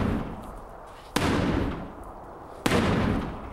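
Two heavy, sharp whacks strike a plywood tornado shelter wall, loud and close, each followed by a booming resonant decay.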